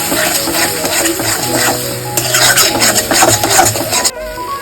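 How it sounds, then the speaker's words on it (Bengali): A spoon stirring a spice mixture into fried potatoes with a little water in a pan, giving scraping, rasping strokes with a light sizzle underneath, close and continuous before ending abruptly. "এটাকে আলুর সাথে ভালোভাবে মিশিয়ে নেব।"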